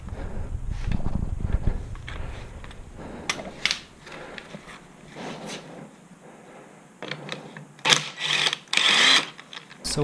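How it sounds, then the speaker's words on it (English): An impact wrench works the lug nuts on a Chevy Bolt EV wheel, with short rattling hammer bursts between quieter handling and clanks, loudest near the end. "impact wrench."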